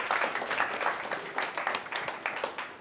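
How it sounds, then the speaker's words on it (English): A small audience at a college talk for young filmmakers gives brief applause, with a light scattering of claps that is moderately quiet and uneven. "I'd like to give a warm welcome and a round of applause for Josh Bulmer."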